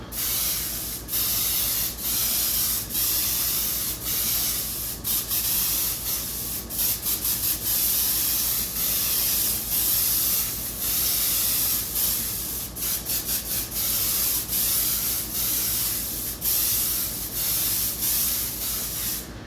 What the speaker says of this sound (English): Because this airbrush is kind of spitting, I'm going to go ahead and do one more coat.